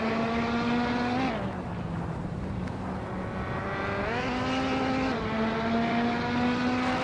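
A 2013 Caterham 620R race car drones past in a race, its engine note a steady harmonic whine that dips and climbs with gear changes, with other engines blending in the background.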